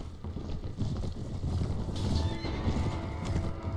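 Horse in Mount & Blade Warband during a mounted charge: rapid clip-clop of galloping hooves with a whinny rising over the top, wind-like rushing noise throughout, close and fairly loud, no talk.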